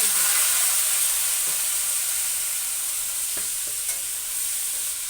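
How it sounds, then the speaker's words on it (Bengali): Dry red chilies and mustard seeds tempering in hot oil, making a loud, close, continuous sizzle and hiss with a few faint pops and stirring scrapes. "শুকনো লঙ্কা সর্ষে ফোড়ন আর তার মধ্যে দিয়ে দিচ্ছি"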